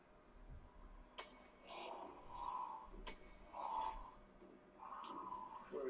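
A bell rings in a few separate strikes, each a sharp metallic ding with a short ringing tail, spaced about two seconds apart, quite faint and under low background noise.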